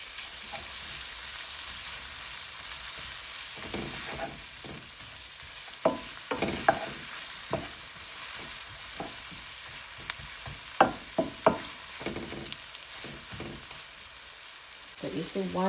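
Onion, garlic and a couple of pimento seeds fry in melted butter, giving a steady broadband sizzle with scattered sharper crackles and stirring knocks that grow louder near the end, with no talking.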